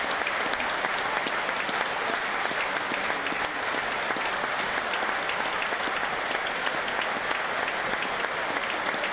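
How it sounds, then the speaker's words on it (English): A large football stadium crowd holds a sustained minute of applause before a Portsmouth versus Sunderland match. Dense, steady clapping from many hands spreads evenly across the stands, continuous and unbroken, with a faint commentator's voice underneath. "they're doing a minute's round of applause"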